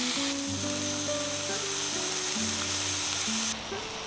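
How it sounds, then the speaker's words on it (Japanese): White maitake mushroom from Nagano pressed down on a hot grill, giving a steady, close sizzle with a bright hiss as juices squeeze out, continuing alone over soft background music with no voices. "ぎゅーっと押すと旨味がたっぷり詰まった汁がじゅわっと出てきて、舞茸を美味しく仕上げてくれます。"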